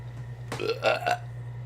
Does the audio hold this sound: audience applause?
no